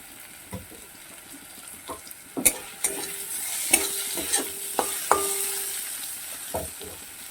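Chopped tomato with a little ginger and garlic sizzles in a pan while a spatula stirs and scrapes, giving several sharp knocks over a soft frying hiss.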